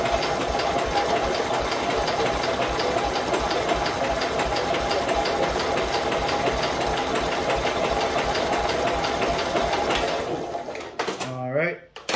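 An old engine running on choke with the throttle eased back, a steady loud mechanical clatter that continues for about ten seconds, then sputters and dies away near the end.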